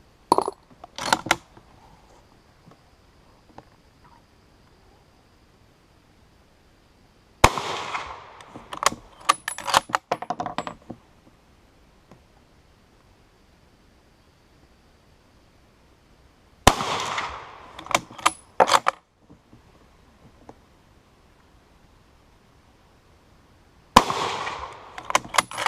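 A Krag-Jørgensen Model 1898 long rifle in .30-40 Krag fires standard loads in four separate sharp shots spaced several seconds apart, each followed by bolt-action clicks and mechanical handling, with near silence between.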